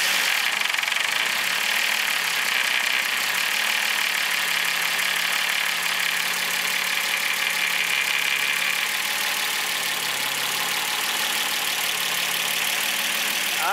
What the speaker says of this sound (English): That's nice and quiet now. Well, as quiet as an M50 ever be.